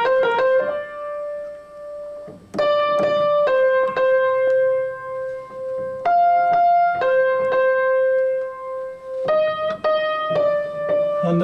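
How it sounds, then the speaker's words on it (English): A mandolin from the 1973 Theatre of Blood film score plays a plucked melody of sustained, tremolo-like notes in phrases separated by short gaps, clear and prominent without talk. "And so the mandolin goes."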